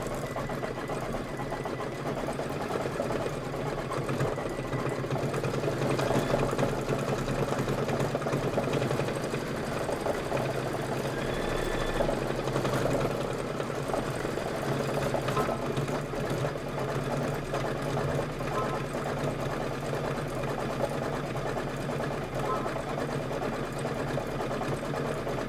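A sewing machine stitches continuously for a long stretch, a steady fast mechanical whirr and hum at moderate level with no voices.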